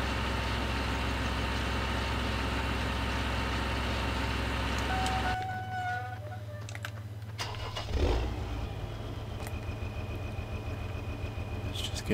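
Steady low engine drone of an old tractor in Farming Simulator 2013 on Xbox 360, running continuously with a shift in tone midway as the machine changes gear or load, alone without talk.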